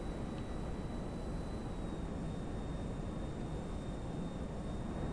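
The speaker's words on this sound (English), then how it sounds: "there's a fucking jet here" Jet aircraft flying in GTA5, heard as a steady, broad roar with low rumble and a faint high whine running continuously, no talk over it.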